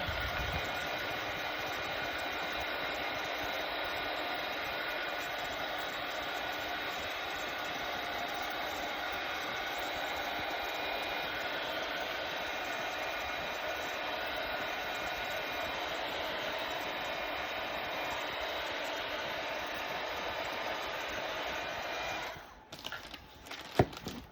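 A hair dryer blows a steady, even whir for about twenty seconds while paint coats dry on a tulip craft, then cuts off, followed by a few small handling bumps.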